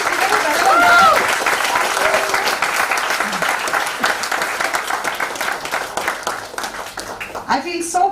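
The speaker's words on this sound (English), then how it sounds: "Can we have a huge round of applause?" Audience applause at a Bollywood book launch, a sustained wash of many hands clapping close and loud that slowly thins out toward the end, with voices over the crowd.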